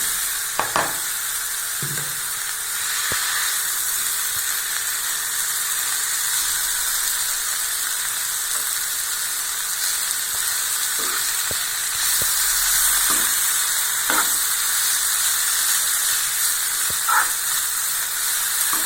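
Rice flour noodles fry in a hot pan with a steady, close sizzle and hiss, broken by occasional soft scrapes and clicks as they are tossed.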